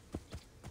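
Three soft hoof clops spaced apart, a slow, quiet clip-clop like a horse walking in Assassin's Creed Origins, with no talking.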